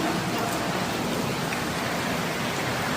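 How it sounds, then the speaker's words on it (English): Heavy rain in Saudi Arabia pouring down in a dense, continuous hiss at steady loudness, with no voices heard. "It's raining in Saudi Arabia."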